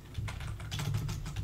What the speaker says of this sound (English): You're going to hear my keyboard because I'm actually looking something up